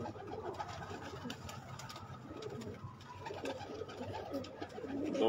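Racing pigeons coo softly at a distance, repeated low calls over a faint background.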